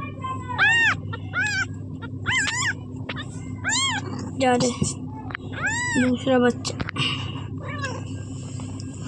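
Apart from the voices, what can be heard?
cats meowing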